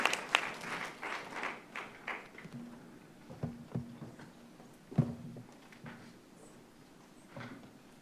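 Faint applause from a city council meeting audience, following recognition of a state champion high school girls varsity cheer team, rises briefly and then thins out into scattered claps and shuffling over several seconds.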